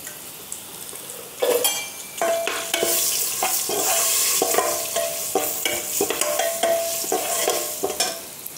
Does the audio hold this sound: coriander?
yes